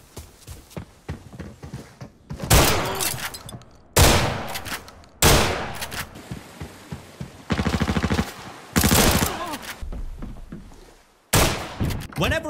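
Shotgun fire in the video game Arena Breakout, several loud booming blasts spaced a second or two apart with a bit of echo, between quieter footsteps and movement noise.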